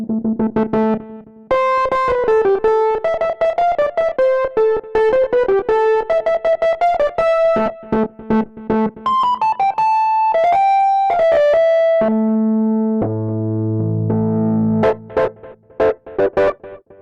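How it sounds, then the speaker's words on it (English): A distorted, overdriven Rhodes-style electric piano plugin plays a long flowing melody with held chords, loud and upfront throughout with no voices. "Not the best overdrive"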